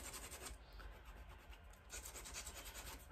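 Rhythmic rasping strokes of sandpaper rubbing against edge coat paint, tearing the colour away in chunks, repeated back and forth at close range, no talking.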